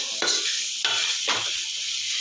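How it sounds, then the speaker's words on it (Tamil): Mixed country vegetables sauté in oil with salt for sambar while a spoon stirs them. Three distinct scraping stirs sound over a continuous close sizzle. "நல்லா எண்ணெயிலே எல்லா காயும் நல்லா வதக்கிடணும்"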